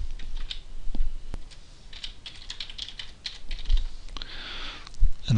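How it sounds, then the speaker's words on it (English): Typing on a computer keyboard while entering an account name to log in, with a soft, irregular patter of close keystrokes and a few sharper clicks, and no talking. "I'll type in here my own account name."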